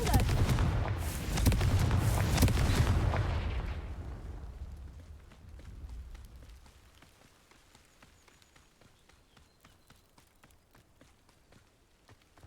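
Confringo spell cast in Hogwarts Legacy: a loud fiery blast bursts out in the first seconds, then decays into crackling rain-like debris that fades toward quiet.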